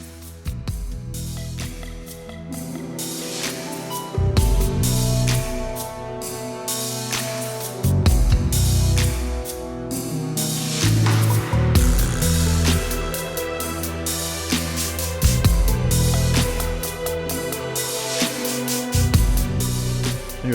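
Full arrangement of an original film score for The Briefcase, with layered instruments and a rhythmic low end swelling and receding in waves, moderately loud with no voices.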